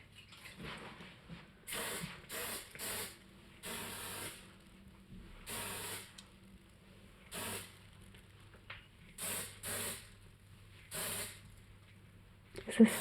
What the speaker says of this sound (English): Is this hairspray?